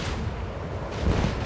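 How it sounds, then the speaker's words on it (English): A macro cannon volley in the video game Rogue Trader, a loud rumbling burst of heavy cannon fire with a second thudding boom near the end, dense and close. "Macro cannons, volley!"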